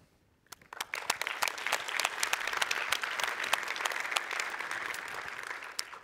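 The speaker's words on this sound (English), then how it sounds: "a big applause to them" Audience applause at a commerce conference welcome speech: dense clapping breaks out abruptly and holds steady at full strength throughout.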